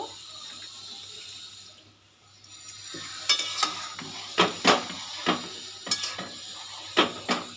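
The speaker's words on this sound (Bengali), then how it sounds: "অল্প পরিমাণে জল দিয়ে দেব" Water pours into a pan of simmering dahi potol, a yogurt and pointed gourd curry. A steady soft wash gives way to gentle sizzling and a run of light scraping stirs of a spoon in the pan.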